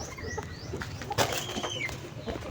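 Breeding pigeons in a loft setup flap their wings in a short burst amid soft coos and other faint bird calls, fairly close by.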